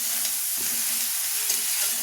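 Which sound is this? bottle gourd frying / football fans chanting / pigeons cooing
bottle gourd frying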